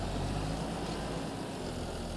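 A tractor engine with a trailer attached idles in a farming video game, a steady, dense low rumble that holds even and unbroken throughout, with no voices.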